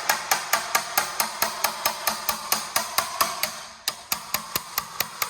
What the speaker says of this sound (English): I'm angling the chisel just to get a bite here.